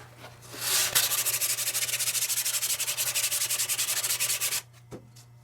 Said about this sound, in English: Hand sanding with 60 grit.